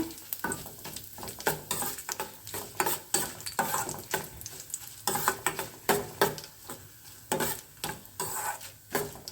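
Mustard seeds, urad dal, dry chili and curry leaves sputter in hot oil, a close, steady sizzle broken by repeated scraping stirs of a spoon against the pan.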